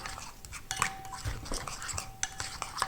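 A spoon clinks and scrapes against a bowl while chocolate sauce made with oil and cocoa is stirred for a honeycomb cake, giving light, irregular taps under a soft hum, with a faint voice in the background.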